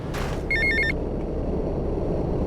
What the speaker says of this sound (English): he receives a phone call from Lance